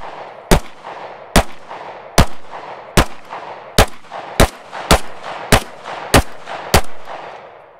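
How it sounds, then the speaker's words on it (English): Eleven sharp pistol shots crack out at a steady, slightly uneven pace during a live-fire drill on a range, each loud and close with a short ringing decay before the next. "when you're ready, break some shots"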